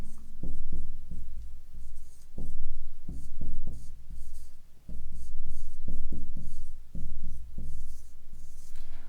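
Marker or chalk writing on a board during a reasoning lesson, heard as repeated scratchy strokes in bursts with short pauses, fairly close and steady, with no talking.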